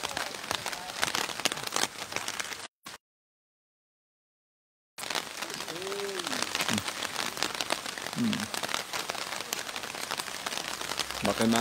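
Steady rain falling across a shantytown neighbourhood, a dense continuous hiss of drops on surfaces that breaks off briefly and then resumes, with faint voices in the background.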